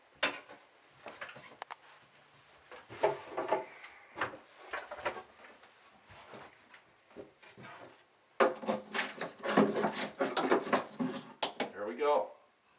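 Wooden particle-board kitchen cabinet doors are being pried off with a tool, giving irregular knocks, creaks and clatters close by, growing louder and busier toward the end.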